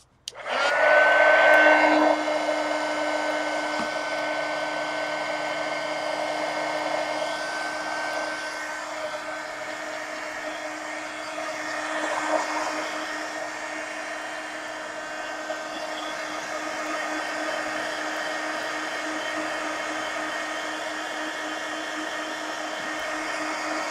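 A hair dryer blows steadily and loudly on fresh paint on a mixed media collage, with a brief louder burst at switch-on, then a constant whooshing roar with a motor hum running alone throughout.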